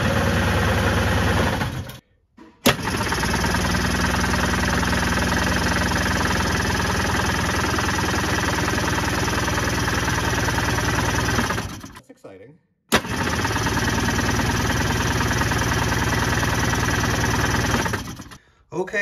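A 1974 Arctic Cat Cheetah snowmobile's two-cylinder engine fires up and runs with a loud, rough, buzzing drone, cutting out abruptly twice before restarting.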